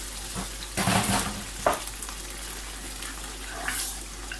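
Squid cooking liquid poured into sambal frying in a pan, giving a loud sizzling splash that fades into a steady bubbling hiss, with a few clinks of stirring and no talking.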